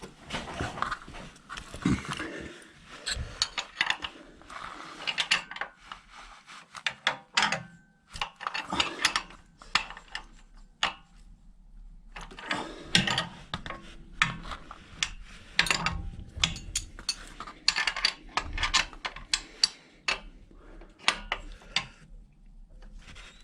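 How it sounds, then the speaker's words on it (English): Metal clinks, scrapes and taps of bolts being adjusted on the centre stand of a Triumph Bonneville T140V motorcycle, irregular close bursts separated by short pauses, with no talking. "just adjust the bolts so the centre stand moves freely"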